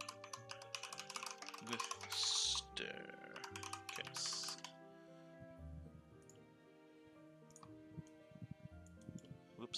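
A computer keyboard clatters in quick bursts of keystrokes, then gives way to a few scattered clicks, close and fairly quiet over faint background music.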